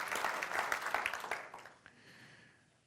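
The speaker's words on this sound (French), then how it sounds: "ça mérite un applaudissement" Applause from a church congregation honoring Jesus during a French-language sermon, a dense burst of many hands clapping that fades over the last second into quiet room tone.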